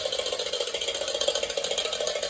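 A rapid, rhythmic ratcheting whir of a vintage Technofix clockwork tin toy helicopter spins continuously, a bright clicking clockwork buzz, close and steady.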